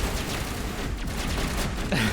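A shotgun fires in the video game Mass Effect, a few heavy blasts against a constant low rumble of battle, moderately loud over about two seconds.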